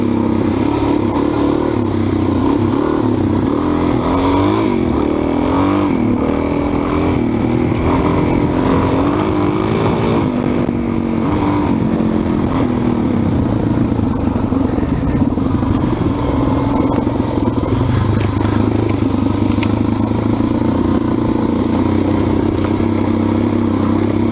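A Suzuki DR-Z 400 motorcycle is ridden, its mid-pitched engine droning steadily and close for the whole stretch, swelling slightly in places with light clatter and wind mixed in and no talking.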